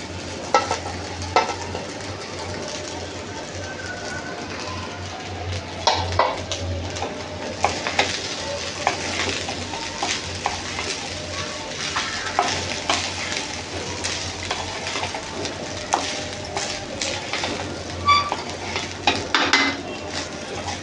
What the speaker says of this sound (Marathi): थोडं मिक्स करूया.